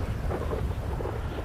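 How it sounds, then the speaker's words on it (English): Thunder rumbling during a thunderstorm with pouring rain in GTA 5 Online, a brief loud low roll over a dense hiss of heavy rain. "And it's pouring down rain."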